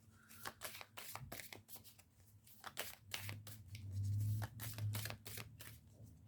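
Tarot cards riffle and flick in quick bursts of crisp, papery snaps close by, with soft low thumps beneath and no talking.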